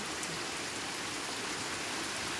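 Heavy night rain in Lopez, Quezon Province, Philippines pours down steadily, a dense, constant hiss of drops with no voices.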